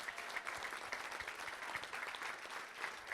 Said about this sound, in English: Let's give our community organizers that we currently have up here a round of applause.